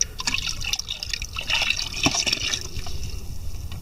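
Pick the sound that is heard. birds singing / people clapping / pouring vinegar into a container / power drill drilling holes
pouring vinegar into a container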